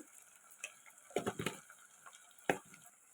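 Coriander powder frying in oil in a pan for an Andhra-style fish curry, with a soft steady sizzle under scattered clinks and scrapes of a spoon stirring, fairly quiet and close.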